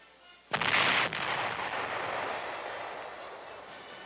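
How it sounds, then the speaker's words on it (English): A 105mm howitzer fired by a gun crew during the 1950 Korean War. One sharp, heavy boom cracks out, then a long rumbling echo slowly fades. "A gun crew fires a 105mm howitzer."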